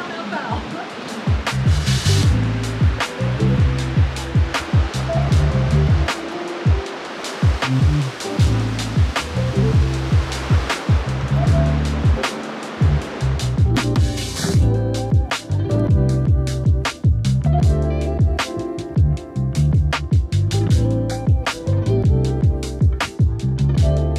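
Steady broadband rush of a waterfall near Cat Cat Village in Sapa, Vietnam, loud and close throughout, with rhythmic low thumping pulses running beneath the roar.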